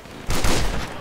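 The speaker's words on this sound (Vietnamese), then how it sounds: "Đây là súng bắn đôi. Bắn viên nhảy ra hai viên." Gunfire from a double-shot gun in the video game GTA 5, a single loud burst that starts abruptly and rings on with a dense, sustained crackle before tailing off.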